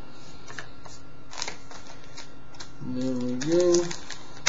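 Scissors snip and crunch at the packaging of a Halo 4 limited edition, giving a string of short, close clicks and cuts while someone speaks briefly.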